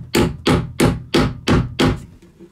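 A hammer strikes RV cabinet wood trim in six evenly spaced, sharp, solid knocks, close and loud, pressing down small broken-off bits so they sit flush.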